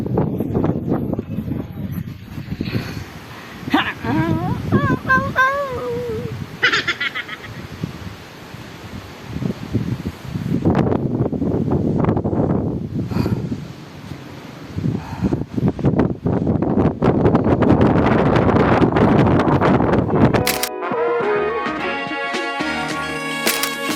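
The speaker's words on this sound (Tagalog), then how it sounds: "Saking hangin, bagyo." Strong storm wind roars across the Manurigao Highlands at 5,650 feet in New Bataan, Davao de Oro, buffeting the microphone in loud, continuous gusts that swell and ease, ending in a brief harsh electronic tone.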